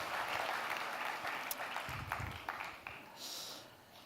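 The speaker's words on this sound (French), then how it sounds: "On peut vous applaudir, je vous en prie." Audience applause at a TEDx talk, a dense patter of clapping that fills the hall steadily and then thins slightly toward the end, with a few sharper claps standing out.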